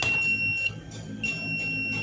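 A continuity tester's high-pitched electronic buzzer beeps in short repeated tones while checking an automatic washing machine's wiring, near and fairly loud, with brief gaps between beeps.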